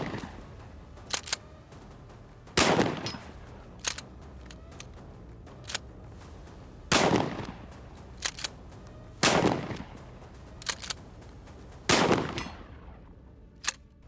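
Pump-action shotgun firing slugs at a 100-yard target outdoors: five loud, sharp blasts spaced a few seconds apart, each followed by the clack of the pump action cycling between shots.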